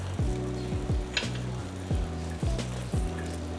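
A pot of oyster chowder base sizzles steadily as it cooks down, with repeated rhythmic scraping strokes of a spoon across the bottom about every half second, close and fairly loud, with no talking.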